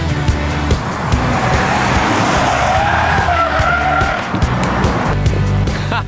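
A natural gas Honda Civic GX pulls away, its engine loud and steady over several seconds with a skidding, tire-squealing edge and road noise, close to the listener.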